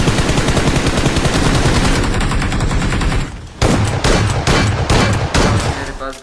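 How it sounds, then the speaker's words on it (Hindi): Shotgun gunfire in a shooting video game: a dense, loud barrage of blasts that briefly drops out, then resumes in a rapid series of close, punchy shots. "पिटी डाला ने भी शॉटगन लाया है।"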